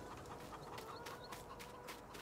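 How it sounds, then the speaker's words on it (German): Chickens clucking softly in Farming Simulator 19, amid a busy farmyard background, with short scattered calls over a steady low hum. "Hühner, man hört sie schon."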